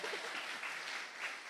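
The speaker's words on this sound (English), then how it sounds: "let them give you a round of applause too." Congregation applauding at a church youth service, a steady wash of clapping from many hands that holds throughout at moderate level, with faint voices mixed in.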